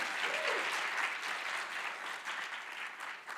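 Sustained audience applause at a college of medicine awards ceremony, steady dense clapping throughout with no one speaking.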